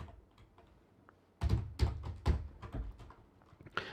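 Typing on a computer keyboard at close range while writing Processing code: a faint sparse tap or two, then a rapid burst of clacking keystrokes with uneven rhythm, no voices.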